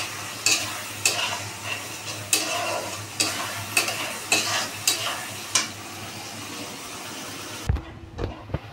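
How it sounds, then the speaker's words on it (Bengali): A spice paste of tomato, garlic and ginger sizzles in a pan while a spoon scrapes and stirs it in regular strokes about once a second, close and fairly loud, before the frying suddenly cuts off near the end. "তারপর এই মশলাটাকে দিয়ে আমি আবার ভাজবো"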